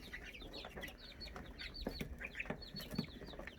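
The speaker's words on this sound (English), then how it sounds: "These here are our older baby chicks." Month-old baby chicks peep and chirp in a steady cluster of high, quick calls, fairly faint and close, with a few soft clucks mixed in.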